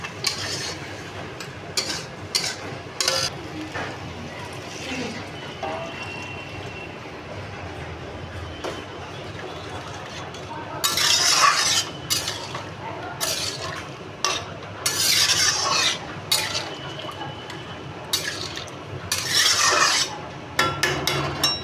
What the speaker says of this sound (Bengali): এবার বড়িগুলো দিয়ে একটু নাড়িয়ে চাড়িয়ে গরম জল দিয়ে দেবো